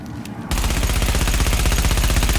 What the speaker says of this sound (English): here's the Vector, and it's even more stable. I'm barely controlling the recoil